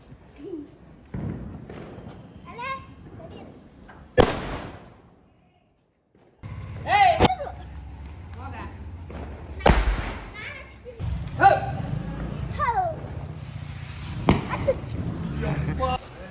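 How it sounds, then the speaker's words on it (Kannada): Sharp Deepavali firecracker bangs burst out at scattered moments, several loud cracks with thuds and outdoor bustle in between, people talking throughout. "ಇವಾಗ ಪಟಾಕಿ ಹೊಡಿಬೇಕಂತ ಬಂದಿದ್ದೀವಿ"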